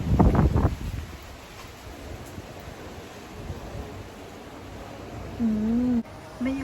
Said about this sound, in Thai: ลมแรงค่ะลมแรง